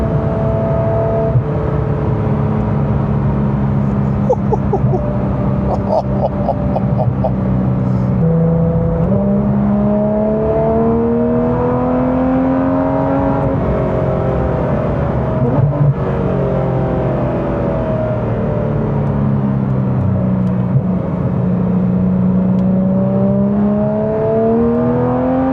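A Porsche GT3 RS fitted with a Dundon exhaust drives from the cockpit, its engine steadily revving up and down through the gears in a loud, continuous, throaty drone.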